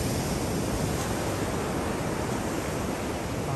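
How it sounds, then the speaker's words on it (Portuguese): Sea waves at Itapuã beach in Salvador, Bahia, a steady broad wash of surf with wind noise, constant and fairly loud with no distinct breaks. "Salvador, Bahia, praia de Itapuã, um lugar gostoso, tranquilo"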